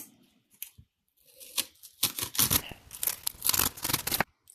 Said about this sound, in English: I'm going to cut some onion